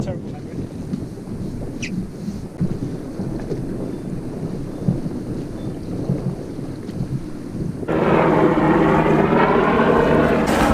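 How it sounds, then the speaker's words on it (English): Wind buffets the microphone on a sailing boat off the coast between Dunkirk and Nieuwpoort over low rumble, then a loud helicopter suddenly roars in close overhead with thudding rotor noise and whine. "just in time for the buzz by the helicopter there"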